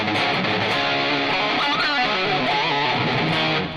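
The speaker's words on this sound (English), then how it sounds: "right now we're still hearing probably the old distortion that I just had in the last patch" Electric guitar played through the previous distortion patch on a Positive Grid BIAS Distortion pedal: dense, saturated chords ring continuously at steady, loud volume with no voices.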